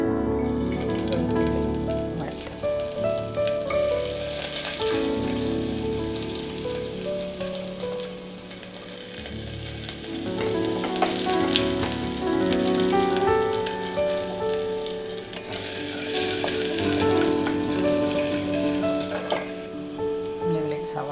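Ginger sizzles and fries steadily in a pressure cooker while egg biryani is being prepared, a continuous crackling hiss that rises and falls slightly with faint clatter, heard without talk.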